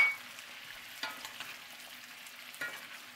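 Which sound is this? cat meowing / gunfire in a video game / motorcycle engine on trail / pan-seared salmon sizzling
pan-seared salmon sizzling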